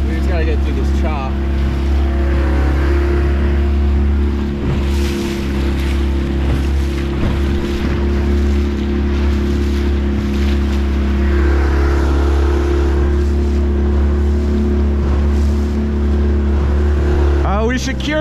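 Motorboat engine running steadily at speed through choppy water in the Point Pleasant Canal, a loud continuous low drone with water slapping against the hull and wind across the mic throughout.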